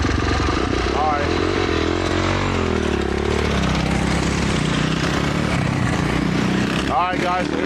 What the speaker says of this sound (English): a couple motorbikes, our petrol brethren